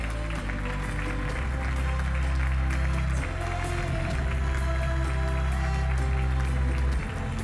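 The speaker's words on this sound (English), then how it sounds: "Sous vos applaudissements, encore under your applause." Audience applause at the opening ceremony of the 9th Peace and Sport International Forum, a steady loud wash of clapping mixed with strong low music or hum throughout.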